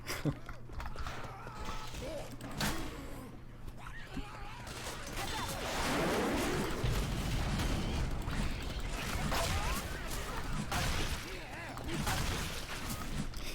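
Continuous rumbling explosions and aircraft flybys fill a Left 4 Dead 2 campaign on The Parish, with gunfire bursts and a swelling roar midway, steady and dense throughout under occasional talk.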